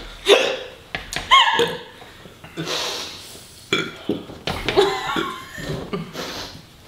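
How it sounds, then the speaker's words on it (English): Repeated hiccups jerk out after eating an extremely spicy chip in a one-chip challenge, several abrupt gulping bursts mixed with strained breaths and voices close by. "I have the hiccups. I have the hiccups."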